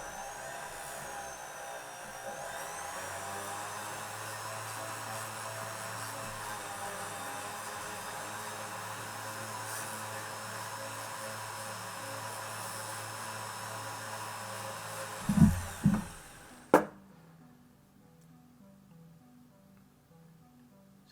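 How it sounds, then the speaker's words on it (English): Rotary tool fitted with a 400 grit wheel finishing metal to a matte texture, heard as a steady, close whirring drone for about fifteen seconds, then a few sharp contact knocks before it stops. "This is a 400 grit wheel that I'm going to use."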